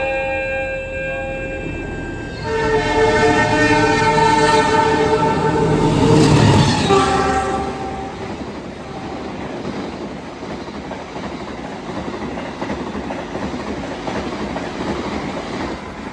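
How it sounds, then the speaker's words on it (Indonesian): A Taksaka passenger train passes close by on its way to Gambir, horn sounding loudly early on, then wheels rumbling steadily along the rails as it fades slightly. "Barusan berjalan langsung kereta api Taksaka dari Yogyakarta dengan tujuan akhir Gambir."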